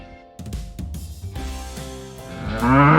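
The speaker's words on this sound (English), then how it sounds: "Cow is mooing." A cow moos in a deep, drawn-out call that rises into a loud, strained bellow at the end, with a few brief knocks and rustles in between and no talking.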